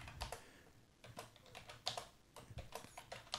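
Keystrokes on a computer keyboard while setting up a simple project, quick bursts of clicky taps with short pauses between, fairly quiet and close, no voices.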